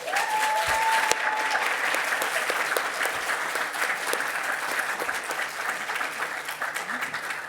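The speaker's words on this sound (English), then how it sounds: "How about we give another round of applause for them?" Sustained audience applause fills a conference hall after a women entrepreneurs founder showcase, steady and dense throughout with no break.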